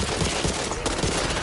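Rapid automatic gunfire from the zombie shooter game Back 4 Blood, a dense, loud, continuous barrage of overlapping shots with no pauses.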